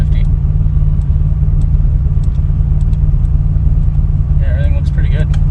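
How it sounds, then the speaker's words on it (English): A 1993 GMC Typhoon engine idles steadily with a constant low rumble, close and loud, with a few faint high chirps and a brief whine near the end. "It's idling about 850 RPM."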